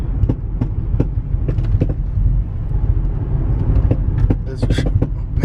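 Worn center drive shaft bearing on a 190K-mile VW Touareg TDI makes a steady low rumble with repeated rhythmic knocks and clicks throughout, heard up close over engine and road noise.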